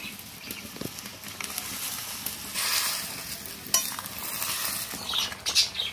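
Fried rohu fish pieces go into a bubbling cauliflower and potato fish curry, a busy sizzling simmer with utensil clinks and stirring scrapes close by.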